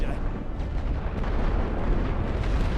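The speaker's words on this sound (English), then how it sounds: "Here comes some artillery." Artillery fire in The Great War, a World War I strategy game on the Western Front: a steady, dense low rumble of distant shelling rolls on with no single sharp blast standing out.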